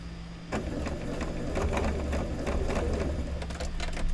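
A sewing machine stitches a quilt block for an Open Gate quilt, starting after a brief pause and then running in a steady, close mechanical whir with rapid needle ticks, alone without talk.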